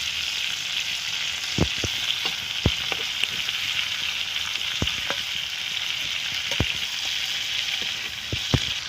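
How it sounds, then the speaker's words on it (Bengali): Prawns fry in mustard oil in a wok, a steady crackling sizzle close up broken by sharp pops and spatters scattered throughout, with no talking. "কড়াতে আমি সর্ষের তেল দিয়ে দিলাম তো আমি চিংড়ি মাছগুলো ভেজে নিচ্ছি"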